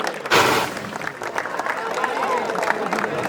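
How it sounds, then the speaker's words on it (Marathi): A crowd applauds at a tournament closing ceremony prize presentation, a loud burst of clapping that settles into steady applause with voices mixed in. "जरा जोरदार टाळ्या होऊन जाऊ दे अनुज साठी"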